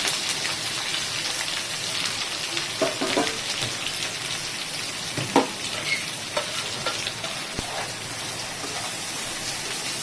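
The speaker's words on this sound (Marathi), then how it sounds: "आता मस्त परतून घेते मी हे दोन मिनटं परतून घेऊया" A ground paste of coconut, garlic, ginger and onion frying in a pan, a steady rain-like sizzle with occasional pops and spoon scrapes from stirring, close and continuous, with no talk.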